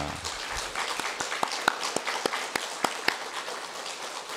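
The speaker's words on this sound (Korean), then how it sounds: "우리 하나님께 감사의 박수 한번 올려드리겠습니다." A church congregation applauds together at an early-morning prayer service, a steady run of sharp claps over a diffuse bed of crowd clapping that lasts the whole stretch.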